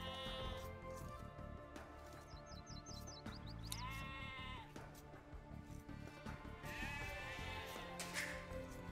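Sheep bleat repeatedly in Age of Empires 2, several distinct wavering calls rising over a busy game soundscape, with no voices.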